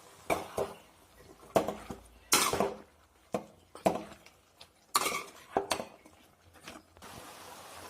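A spoon scrapes and clinks against a pan as eggplant and potato curry is stirred, giving a series of sharp metallic knocks and scrapes in an uneven rhythm, close and fairly loud, with no talking.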